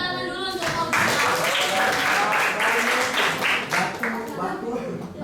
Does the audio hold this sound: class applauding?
yes